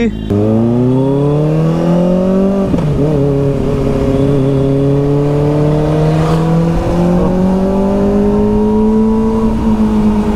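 A Kawasaki ZX4 inline-four motorcycle pulls away with a loud, steady engine tone that rises through the revs, dips at a gear change, then climbs again as it rides off, close and continuous.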